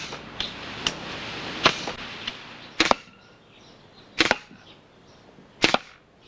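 Blowgun auto dart fired in a quick series, a handful of sharp, dry thwacks spaced about a second apart, each short and crisp against a quiet background.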